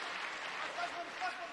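A fight crowd at a Catalin Casaru versus Bondar Mikhail bout cheers and claps in a steady, moderately faint roar, with a commentator talking over it.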